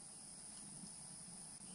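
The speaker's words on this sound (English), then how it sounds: "Nothing but the frogs and the insects to talk to." Crickets and other insects trill in a steady, continuous chorus at night in a Florida national forest campsite, a faint, even drone with no voices.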